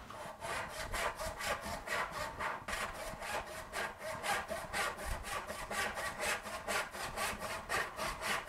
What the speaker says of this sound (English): to complete this saw cut